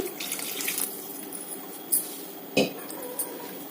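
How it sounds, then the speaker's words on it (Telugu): Water is poured into a pan of bottle gourd curry cooking with salt and chilli powder, a soft, steady pour with a few faint clinks of a utensil and no voices. "బాగా ఉప్పు కారం అన్నీ పట్టిన తర్వాత కాసేపు మగ్గిన తర్వాత వాటర్ అయితే పోసుకోండి"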